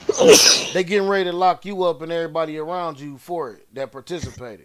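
A single loud sneeze bursts out at the start, followed immediately by someone speaking.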